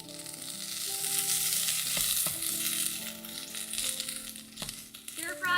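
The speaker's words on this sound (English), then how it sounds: "Stir fry until the bacon is lightly." Bacon stir-frying in a tablespoon or so of oil in a pan, a steady close sizzle with a few sharp clinks and scrapes of stirring, continuous throughout.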